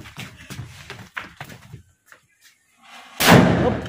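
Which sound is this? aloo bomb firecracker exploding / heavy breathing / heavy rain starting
aloo bomb firecracker exploding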